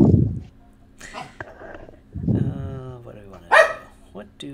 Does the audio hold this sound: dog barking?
yes